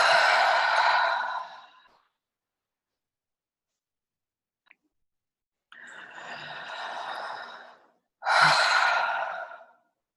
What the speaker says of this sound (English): taking a few breaths, even maybe audibly inhaling and exhaling